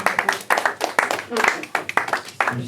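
A church congregation applauds the Lord during a French-language service, clapping in a dense, uneven run of sharp hand claps that rises and falls in bursts, loud and close, with voices mixed in.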